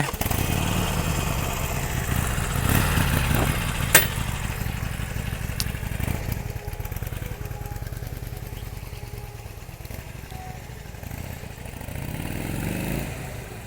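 A 2020 Harley-Davidson Sportster Iron 883 motorcycle being ridden, its engine rumbling loud and near at first, then fading steadily as it moves away, with a short swell near the end.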